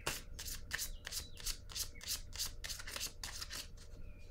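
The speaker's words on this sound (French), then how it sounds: "Je vais piger une carte ici." Cards being shuffled and drawn from a tarot deck during a reading, a steady run of crisp papery riffles and rubs repeating roughly twice a second, close and fairly quiet, with no voices.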